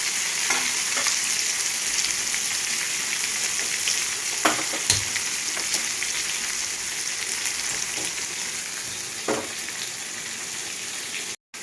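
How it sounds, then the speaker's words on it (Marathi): Bitter gourd pieces frying in hot oil in a pan over lowered gas heat, a steady, loud sizzle with crackling pops running continuously throughout, no talking. "तेल छान असं कडलेलं आहे गॅस थोडा कमी केला आणि आता त्यात कारलं टाकायला लागली आहे"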